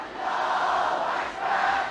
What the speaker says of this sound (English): Pictures have emerged of crowds cheering, holding up their torchlights and parading the national flag late into the evening.